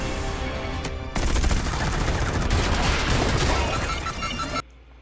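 Rapid bursts of aircraft gunfire from the Top Gun: Maverick movie, loud and dense for several seconds with a brief lull early on, layered with movie sound effects and a little background speech.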